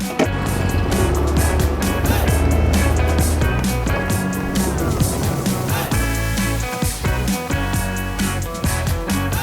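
A Hero Destini 125 scooter engine buzzes steadily while riding, with rumbling road noise and wind rushing past, fairly loud and continuous throughout.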